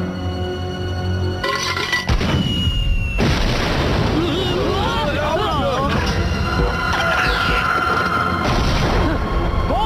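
Cartoon blasters fire in a loud, dense battle scene from the animated series Slugterra, with booms, bursts and whooshing zaps overlapping continuously, while voices shout over the action.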